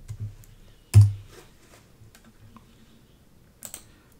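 A couple of isolated keystroke clicks on a computer keyboard, one sharp tap near the start and a faint double tap near the end, with quiet room tone between.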